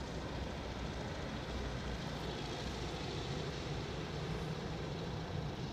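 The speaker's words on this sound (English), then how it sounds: "That's the Beech 1900C." A Beech 1900C turboprop at Anchorage airport gives off a steady, fairly faint drone of engine noise that holds level throughout without distinct peaks.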